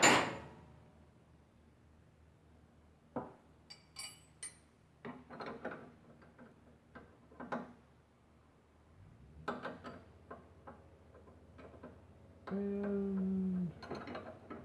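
Wrench work snugging fuel filter fittings under a C4 Corvette, sparse metallic clicks and ratcheting taps with pauses, close and faint, followed by a brief steadier mechanical whir near the end.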